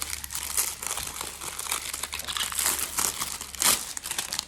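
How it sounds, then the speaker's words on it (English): Plastic protective film crinkling and crackling as it is peeled off new S&A supply bags, a steady close, dry rustle with a sharper tearing burst near the end. "you just gotta get that with your fingernail and start peeling that plastic off"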